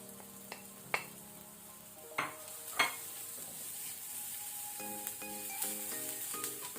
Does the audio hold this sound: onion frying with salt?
yes